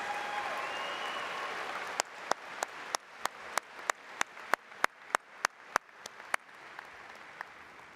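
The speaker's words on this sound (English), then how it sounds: "Can we offer another round of applause for our master's degree recipients?" Applause for master's degree recipients at a university spring commencement comes as a faint, steady run of single claps in an even rhythm, following a brief murmur of crowd noise.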